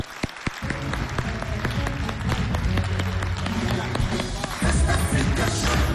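Audience at a Chadian festival show applauding the entrance of a former Miss Tchad, dense steady clapping mixed with crowd noise and loud music, continuous and close throughout.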